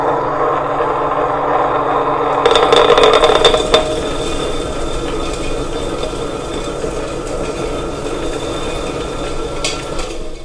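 A mini chocolate grinder used for grinding cacao nibs runs steadily, a loud continuous motorized hum and rumble with a brief louder rattling surge near the start, alone without talk.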